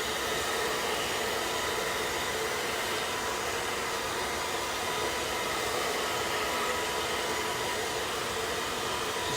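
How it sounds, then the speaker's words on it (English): A hair dryer blows steadily and loudly at close range while hair is dried with a comb, giving a constant unbroken rushing whoosh with no talk. "I might even actually blow dry this just for 1 second to make sure that it's not going to dry funky on me."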